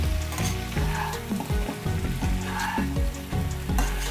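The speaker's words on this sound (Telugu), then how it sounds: "ఈ మసాలా అంతా ఈ చికెన్కి పట్టేలాగా బాగా కలుపుకుందాము." Chicken pieces sizzle loudly in a pan as masala is stirred through them, steady crackling frying with repeated scraping stir strokes throughout.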